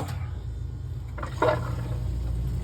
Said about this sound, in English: It's draining and refilling.